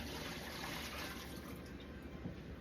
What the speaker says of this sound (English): So I'm gonna discard the water.